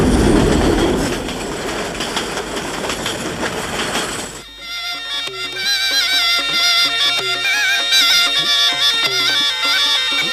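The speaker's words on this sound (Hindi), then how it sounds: "पुराने डिजाइन के स्टीम इंजन से जुड़ी रेलगाड़ी धुआं उड़ाती," A train hauled by an old-design steam locomotive rumbles and rattles past as it departs, giving way to a busy clatter of wheels and metallic squeals, loud and continuous throughout.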